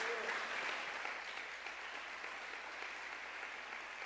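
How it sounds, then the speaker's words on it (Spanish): Steady applause fills a church, a broad continuous wash of many hands clapping through the whole stretch at moderate, even loudness with no talk over it. "Este aplauso es para el Espíritu Santo, porque Él es el que nos enseña."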